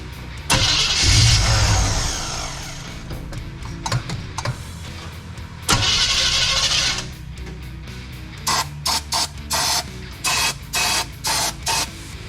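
A 1966 Chevrolet C10 short-wheelbase truck, unrun for months, cranks in long starter bursts with brief firing roars, then a series of short rhythmic cranking attempts, close and loud with no talk.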